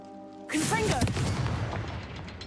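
Confringo fire-blast spell in Hogwarts Legacy lands with a sudden loud boom after half a second of quiet tones, then a crackling, rumbling blast decays over the next two seconds.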